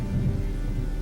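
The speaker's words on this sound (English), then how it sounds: "Severe rainfall accompanied by gusts of wind and thunder is a common phenomenon in the Andamans" Rumbling thunder rolls through steady heavy rain during a severe Andaman Islands storm, a loud continuous low roar with no voices.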